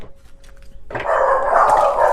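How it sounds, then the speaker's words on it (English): Indoor dogs bark and growl toward a window, with a quiet lead-in followed by a loud burst of repeated close barking that carries through to the end. "Please ignore my dogs in the background."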